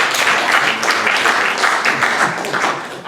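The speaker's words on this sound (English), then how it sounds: "I think you'd like to give them a quick round of applause" A live audience gives a panel on cheating in sport a quick round of applause, dense steady clapping filling the room for the whole stretch with no voices over it.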